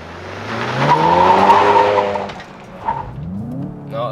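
A 2022 VW Jetta GLI revs hard and launches, the engine rising loudly over about two seconds with tire squeal and skidding, then easing before building again as it pulls away.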